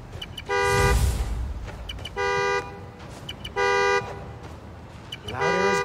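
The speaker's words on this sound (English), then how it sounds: "Find the horn, find the car." A car horn in Marvel's Spider-Man: Miles Morales honks three times in short, steady blasts with gaps between, preceded by a brief whooshing noise and followed by a rising tone.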